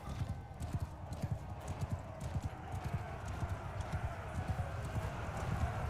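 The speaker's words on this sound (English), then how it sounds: "Look at all these riderless horses," In a Crusader Kings III battle, many riderless horses gallop in a rapid, continuous drumming of hooves, with scattered whinnies and voices mixed in.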